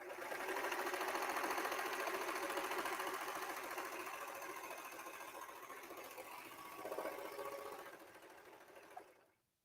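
A serger sewing machine runs fast and steadily while stitching knit fabric, a dense mechanical whirring hum that slowly eases, then stops abruptly near the end.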